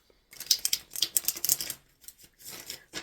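Rapid crisp flicks and riffles of tarot cards being shuffled by hand, close and bursty, with a short pause before the shuffling resumes.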